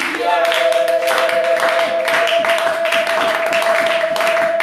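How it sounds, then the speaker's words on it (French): A church congregation claps steadily to acclaim Jesus, a dense, loud, rhythmic applause with a sustained tone from a musical instrument or microphone ringing underneath throughout. "Acclamons Jésus."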